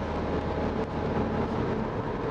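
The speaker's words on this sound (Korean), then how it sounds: "엔진 음이 원래 이 520D의 엔진 음과 좀 달라요, 지금." A steady low rumble comes from a rough-running BMW 520d diesel engine after flood damage, heard close and without speech.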